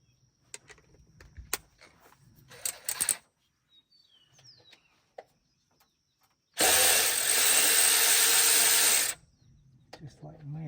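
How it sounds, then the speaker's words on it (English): A burst of rapid mechanical whirring, likely a ratchet wrench, loosening the last valve cover bolt on a 1957 Chevy engine in a garage, loud and steady for a few seconds between quieter clinks and handling noises. "I'm going to go ahead and pull one last bolt and pull this valve cover off"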